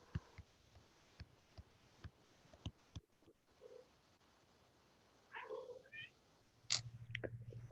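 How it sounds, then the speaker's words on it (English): A cat near a computer in a quiet room makes soft, faint sounds, with a couple of brief cries and a low rumbling purr toward the end, alongside scattered clicks and knocks. "Somebody have a cat near their computer."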